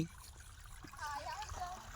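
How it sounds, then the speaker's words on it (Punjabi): Irrigation water trickles and splashes into a field channel, a soft, steady flow heard partly under nearby voices. "ਓਏ ਆ ਗਿਆ ਪਾਣੀ"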